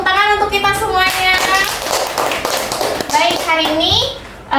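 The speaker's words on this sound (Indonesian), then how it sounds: "tepuk tangan untuk kita semuanya." Sixth-grade schoolchildren clap in a classroom, a loose, uneven patter of small hands mixed with lively children's chatter and voices throughout, with occasional thumps and shuffling.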